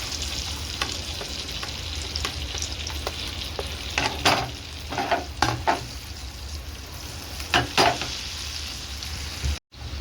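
Garlic sizzles in melted butter in a pan for a cheese pasta, a steady close crackling hiss broken by several scraping stirs and clinks of a utensil.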